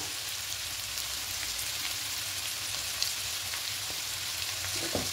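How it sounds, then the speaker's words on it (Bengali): Papaya and potato pieces fry lightly in a pan for a vegetarian papaya dish, giving a steady, close, dense sizzle with a faint crackle and a few small pops, and no voices. "পেঁপেটা আলুটা হালকা করে একটু ভেজে নিয়েছি"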